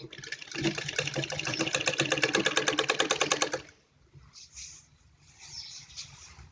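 A sewing machine runs in a rapid, even burst of stitches through net cloth for a Patiala salwar, stops abruptly after a few seconds, then leaves quiet handling noises.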